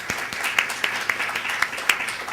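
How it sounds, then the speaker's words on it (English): An audience claps for the first two presenters at a talk, a moderate round of applause with scattered individual claps, fairly steady and not very loud. "Can we just give another round of applause to our two first presenters"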